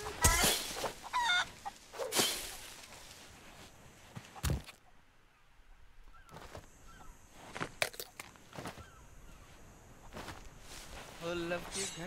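Chickens in the pirate video game Sea of Thieves cluck faintly in scattered bursts, mixed with footsteps and hits, while players talk over the sounds.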